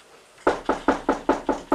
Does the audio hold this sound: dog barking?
no